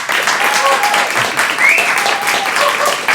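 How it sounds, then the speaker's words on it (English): A studio audience at a comedy panel show applauds in a sustained, dense wash of clapping, with a few cheers and whoops mixed in. "if you think magic would be a benefit, please applaud now."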